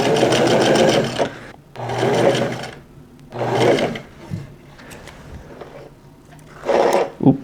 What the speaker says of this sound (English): The final of the sewing steps is to now hem the sleeves.